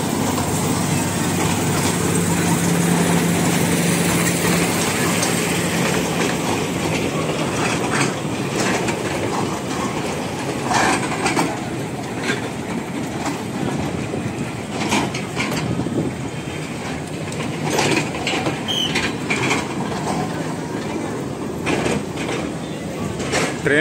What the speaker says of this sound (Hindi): कांकरिया लेक के अंदर में आप ये रेल यात्रा भी कर सकते हैं,